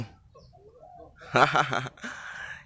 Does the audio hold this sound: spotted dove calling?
yes